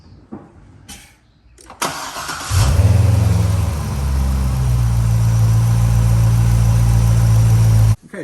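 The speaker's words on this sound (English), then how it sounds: "we went ahead and let the car warm up for a little bit" A 2008 Corvette C6 engine cranks and catches after a few faint clicks and knocks, then settles into a loud, steady idle while warming up, held close until it cuts off at the end.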